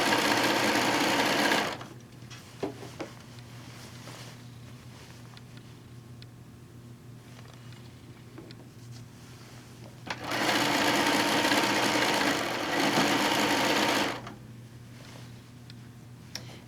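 A sewing machine runs in two steady bursts while quilting layers of a pieced quilt, loud and continuous at the start and again later, with a quieter pause between them.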